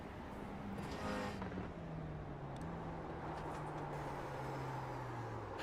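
Onboard engine of a GT4 race car in a sim racing game at Oschersleben, a continuous droning note that steps and slides in pitch as the car accelerates and shifts, under a steady hum of tyre and wind noise.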